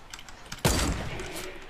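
A single sharp sniper shot in Fortnite cracks out loudly after brief quiet, followed by a short ringing tail and faint background game noise.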